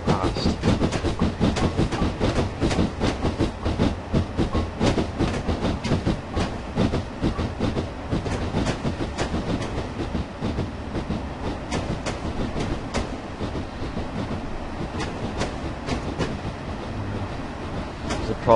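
A steam locomotive runs on the Somerset and Dorset Joint Railway in Train Simulator, giving a loud, steady rolling rumble with rhythmic clattering beats that carry on throughout.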